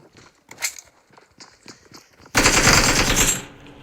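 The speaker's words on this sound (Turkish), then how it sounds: "Elsa ile Anna'yı vurdum" Gunfire in the mobile game PUBG Mobile: a second of soft scuffling and light steps, then a loud sustained automatic burst that rattles on for about a second before cutting off.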